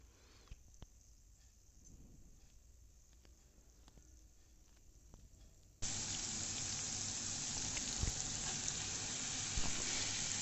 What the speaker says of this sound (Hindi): लहसुन को आपने जलाना नहीं, बस हल्का सा इसको फ्लेवर बटर के अंदर आ जाए